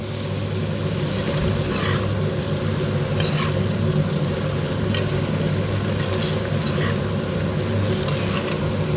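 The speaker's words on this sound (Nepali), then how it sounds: "एकछिन न्युरोलाई भुट्नुपर्छ।" Fiddlehead ferns and okra frying in a pan for a Nepali kadhi, a steady close sizzle with occasional sharp stirring scrapes running throughout.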